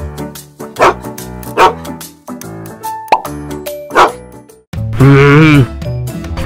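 Toy dog from an Easter surprise egg giving a few short, close yips and barks spaced over several seconds, followed by a louder sustained squeal, amid a child's excited exclamations.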